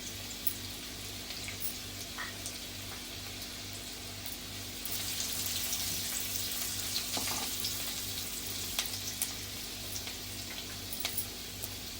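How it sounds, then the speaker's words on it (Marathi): Curry leaves and asafoetida sizzle in hot oil for a karela bhaji, a steady moderate crackle with a faint water-like hiss. It gets slightly louder halfway through, with a low hum underneath and no talking. "कढीपत्ता घालायचा आहे हिंग घालायचं आहे"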